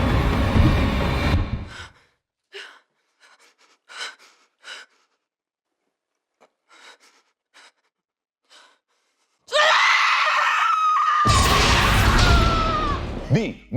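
Screaming from a prisoner in an Andor interrogation scene: strained, breathy vocal cries and gasps, first loud, then a long stretch of faint isolated sounds, then a harsh, sustained loud scream near the end with music-free intensity.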